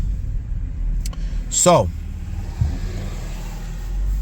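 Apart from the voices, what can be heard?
2020 Ford Fusion SE Hybrid driving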